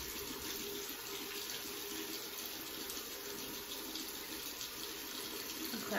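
Running tap water from a sink faucet while a skincare product is rinsed off, a steady broadband wash that continues evenly and fairly close throughout, with no talking.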